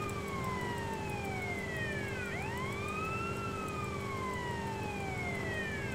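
Police car siren in Grand Theft Auto: San Andreas, several overlapping wailing tones rising and falling over a steady engine and traffic hum, fairly faint and continuous.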